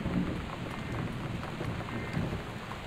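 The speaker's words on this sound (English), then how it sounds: "So we're having a weather alert for the storm going on right now" A storm in the video game Gone Home brings steady rain with a low rolling rumble of thunder, a continuous wash of drops heard alone at moderate volume.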